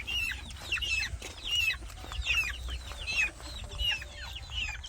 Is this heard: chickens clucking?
yes